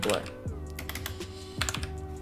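Keyboard keys click in a few sharp, close taps pressing a Control Space shortcut, with a faint steady hum beneath.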